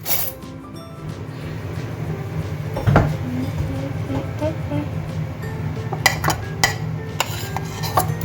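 Mixing rusk crumbs, carrot, onion, curry leaves and green chili together in a bowl for a snack, with clinking utensil scrapes and taps scattered over several seconds while people talk.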